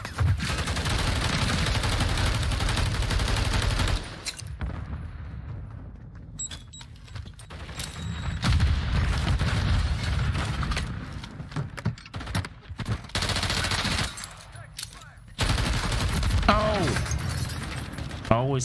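Bursts of automatic rifle fire and scattered gunshots in a Call of Duty MW3 multiplayer match, loud stretches broken by quieter gaps, with someone talking over parts of it.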